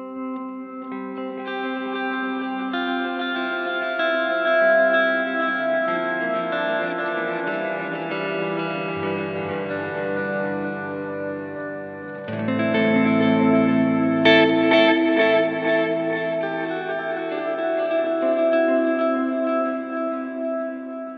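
An electric guitar played through a dark El Capistan tape delay and a bright, tinkly delay pedal on an ambient pedalboard, sustained chords swelling with echoing repeats, a new chord entering midway, loud and close with no talk.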